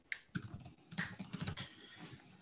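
Fingers type messages on a computer keyboard, quick irregular clusters of clicky keystrokes close by, with short pauses between bursts and no talking.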